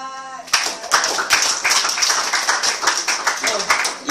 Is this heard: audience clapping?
yes